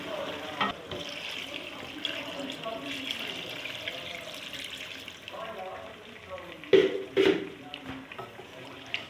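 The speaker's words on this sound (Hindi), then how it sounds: "अब इसमें पानी डालूँगी मैं।" Water is poured into a cooking pot of chicken nihari after the spices are sautéed, a steady splashing pour near the microphone, followed by a couple of sharper clanks toward the end.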